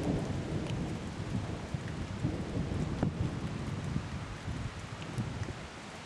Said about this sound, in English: I don't know if you can hear the thunder